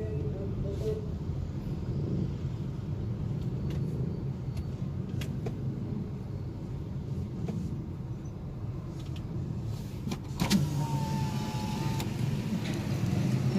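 Slow road traffic in a jam, a constant low rumble of car and bus engines with occasional brief clicks and rattles, steady throughout under a background of low voices.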